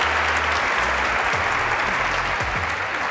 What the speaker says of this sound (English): please, a big round of applause one more time for Mai Khôi.